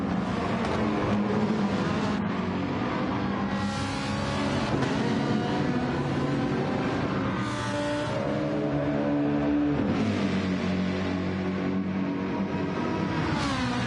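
Race cars roar around Kyoto Driving Park in Gran Turismo 7, their engines whining and shifting pitch as they accelerate and pass, loud and continuous throughout.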